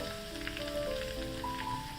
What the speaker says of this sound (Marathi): हे छान मस्त गरम गरम फोडणी आहे ना या मिश्रणात घालूया.